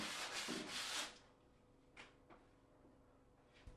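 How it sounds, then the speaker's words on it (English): Medium-grade glass paper rubs along the planed edge of a wooden door in a few quick, close, scratchy strokes, then stops, leaving faint knocks and small handling sounds. "Now rub the planed edge down with a medium-grade glass paper."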